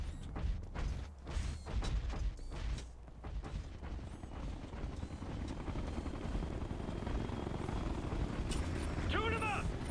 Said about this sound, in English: Hostile chopper inbound!